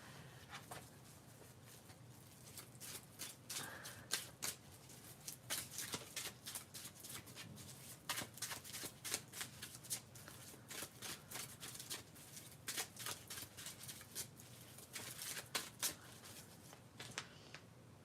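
Tarot cards shuffled by hand in a steady run of crisp riffling bursts, close and fairly quiet, lasting throughout with no talking.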